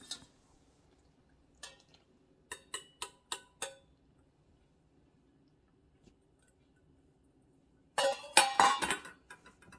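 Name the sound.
mixing milk and egg into dry bread dough mixture in a bowl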